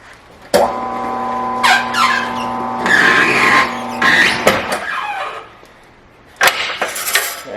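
A tire mounting machine fits a tire onto a Classic Mini wheel, its motor whirring loudly in two bursts with a strained tonal drone, rubbing squeaks and clunks between them.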